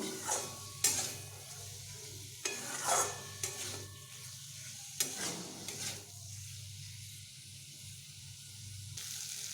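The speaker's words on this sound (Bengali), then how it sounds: "এবার আমি বেশ ভালোভাবে একটু আরও একটু কষিয়ে নেব কুমড়োগুলোকে" Soft pumpkin pieces are sautéed with potatoes and spices and stirred in a pan: intermittent scraping bursts over a gentle sizzle, with quieter pauses between strokes.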